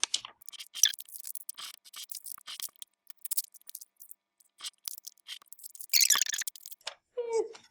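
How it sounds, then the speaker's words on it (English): Paper is folded and ripped by hand in a short, crisp tear near the end, after a stretch of quiet talking and light handling noises. "I'm just going to fold it nicely and rip it"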